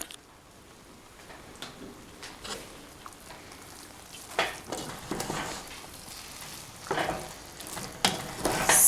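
Curry sauce with coconut milk, curry powder and seeds stirred in a pan for kitcharee: irregular scraping strokes over a light sizzle, growing louder and busier toward the end, with no one speaking.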